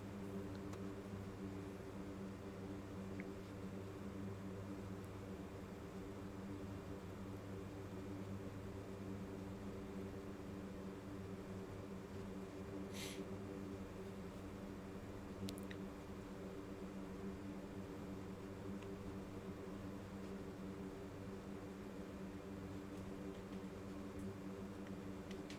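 A C-130J turboprop taxies in a DCS flight simulator, its engines holding a steady droning hum with layered tonal whine, even and continuous at a fairly low level, with no talk.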